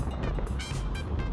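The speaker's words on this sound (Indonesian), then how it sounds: "bunyinya bunyi rantai, terus ada juga bunyi timing yang agak keras" A worn Honda Verza150 motorcycle engine with a damaged valve area runs steadily up close, its chain rattling and loud timing tapping repeating in quick bursts over a continuous low mechanical drone.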